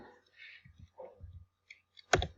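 Calculator keys pressed while entering a matrix inverse, heard as a few soft scattered clicks followed by a sharper, louder cluster of taps at the end.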